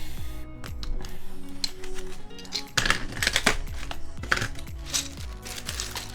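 Mechanical keyboard with original Desco-branded dye-sublimated keycaps, typed on in steady bursts of sharp clacky keystrokes, close and fairly loud, with no talking.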